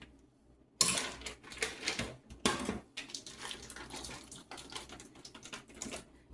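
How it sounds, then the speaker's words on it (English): Water pouring over fresh bay scallops in a kitchen strainer, a steady splashing rinse with brief louder bursts and faint clinks of the strainer, close and fairly quiet. "I am going to put them in this strainer here and rinse them off"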